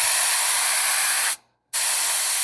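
Airbrush spraying paint onto the back of a 3D printed Superman logo, a steady close hiss that cuts off briefly for about a third of a second, then resumes at full strength.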